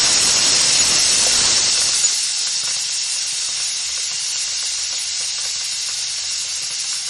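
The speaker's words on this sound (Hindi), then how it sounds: "अब कुकर में 2 सीटियाँ आ गया" Steam hisses steadily from a pressure cooker on a gas stove as it cooks carrots for gajar ka halwa, a loud, bright rush that eases slightly after the first couple of seconds and then holds constant, with no distinct whistle note.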